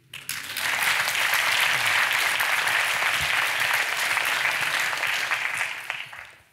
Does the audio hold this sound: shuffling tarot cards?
no